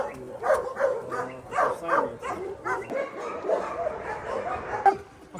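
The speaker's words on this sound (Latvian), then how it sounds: "te ir Ukraiņu suni" Several Ukrainian dogs at the Ulubele animal shelter barking and yipping in a busy, overlapping chorus with some whimpering, fairly close, while a person talks intermittently.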